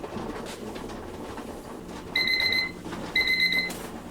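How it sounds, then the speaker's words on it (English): A kitchen timer beeps in two bursts of rapid electronic chirps while strawberry preserves are water-bath canned, sounding over quiet room ambience. "My timer is going off"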